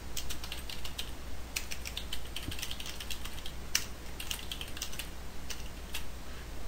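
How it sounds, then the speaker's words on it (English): Typing on a computer keyboard in a Word document: steady, fairly quick key clicks with a few heavier strokes, close up over a faint background hum, with no voices. "I'm going to type in a quick title for my novel, chapter heading, and paste in some text."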